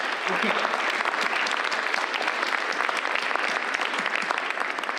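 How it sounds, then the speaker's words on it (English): A large audience gives a sustained, even round of applause for the event's sponsors before a talk, a dense continuous roar of clapping heard close and loud, with a voice faintly over it. "give them a big old round of applause for making it happen"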